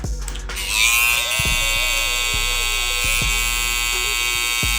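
Electric hair clipper buzzing steadily and close during a high taper haircut with braids, a constant harmonic drone broken by brief knocks and clicks as the blade is placed and dragged along the hairline.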